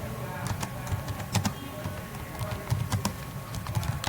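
Typing on a computer keyboard while ABAP code is entered in the SAP ABAP editor, a run of quick, irregular close key taps with a few louder strokes and no talk.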